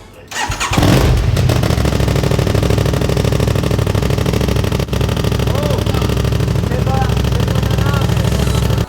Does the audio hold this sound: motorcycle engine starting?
yes